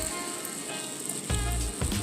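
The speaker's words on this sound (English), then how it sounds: "It took a while, but we're finally at a rapid boil." Apple butter boils rapidly in a pot, a steady close bubbling and sputtering with a couple of louder pops toward the end.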